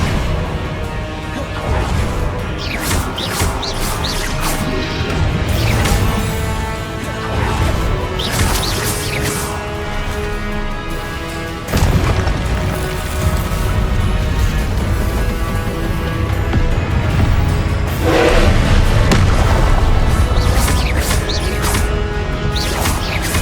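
Spell blasts and crashing impacts from Hogwarts Legacy's Confringo fire spell, loud and repeated across dense game action with whooshes and debris, no talk.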